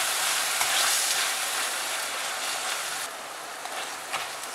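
Tomatoes and salt frying in a pan of aloo gobi (potato and cauliflower), giving a steady, close, broadband sizzle with light stirring crackles throughout, no voices.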